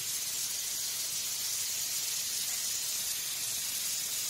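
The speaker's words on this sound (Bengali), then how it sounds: "ফোড়নে দিয়ে দিচ্ছি শুকনো লঙ্কা, কাঁচা লঙ্কা, পাঁচফোড়ন।" Dried chillies, green chillies and five-spice tempering in hot oil in a kadai make a steady, even hiss that runs without pause and without voices.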